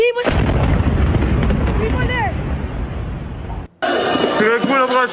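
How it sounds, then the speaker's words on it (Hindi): A loud, sustained roaring missile blast at Soroka Hospital, Israel, with rumbling debris noise, cutting off abruptly, followed by a voice speaking over background noise. "कुछ देर पहले आपने धमाके की आवाज सुनी"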